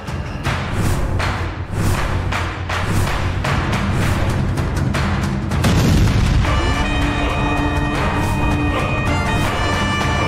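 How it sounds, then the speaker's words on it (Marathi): A heavy explosion blast booms with a deep, dense roar, followed by a sustained rumbling wash and ringing tonal tail, loud and close with no talk over it. "कसला तरी ब्लास्ट झालाय वाटतं."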